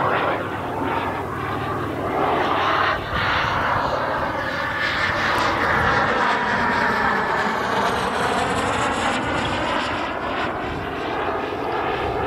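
A radio-controlled model jet flying at half throttle gives a steady, loud, continuous engine whine and rush that holds nearly constant throughout, with a slight dip around three seconds and no talking.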